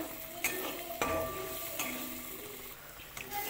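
Chopped onion for egg bhurji browning in a pan, with a soft, steady sizzle broken by a few sharp spatula scrapes and clinks against the metal as it is stirred, fairly quiet and with no talking.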